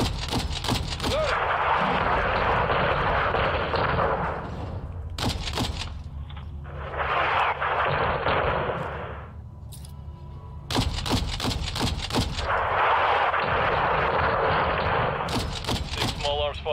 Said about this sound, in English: Take small arms fire from the gas station.